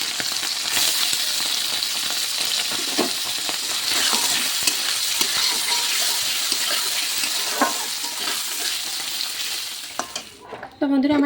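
Food fries noisily in hot oil, a loud dense sizzle with popping crackles and intermittent stirring scrapes heard up close, fading briefly near the end before a final clatter; no speech.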